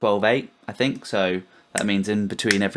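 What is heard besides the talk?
None of the usual background noises is heard.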